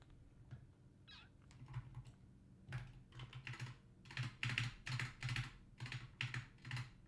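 Typing on a computer keyboard comes as rapid clusters of clacking keystrokes in uneven bursts, moderately close, with a cat's meow heard early on.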